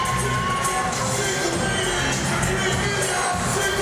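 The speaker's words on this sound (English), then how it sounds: "the crowd are absolutely loving the work of Nathan Barrett" A boxing crowd at York Hall roars steadily through a fight between Nathan Barrett and Jenson Irving, a loud, continuous wash of cheering and shouting with no lulls.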